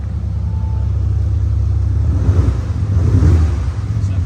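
An Audi S4 3.0 V6 TDI turbo diesel saloon with automatic S tronic, set to dynamic mode, gives a deep, steady engine rumble that swells slightly mid-clip, heard from inside the car.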